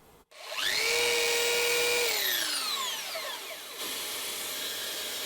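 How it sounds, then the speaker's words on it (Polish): A Parkside PWD 30 B1 1500W workshop vacuum cleaner, switched on automatically by a connected power tool, spins up into a loud, steady whine, then winds down with a falling pitch while a lower hum carries on. "Przy uruchomieniu tego sprzętu uruchamia się oczywiście ten odkurzacz."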